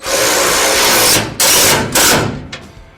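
Power tool whirring as it tightens the final bolt on a car during restoration work on a Plymouth Belvedere, loud and close, running in a long burst and then in several shorter pulses.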